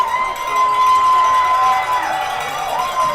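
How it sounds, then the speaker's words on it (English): A stadium crowd roars and cheers through a football championship game just after a successful kick, a loud continuous wash of voices with occasional whistles rising above it. "And the crowd going wild here at Acumen Stadium, cheering on their Ravens"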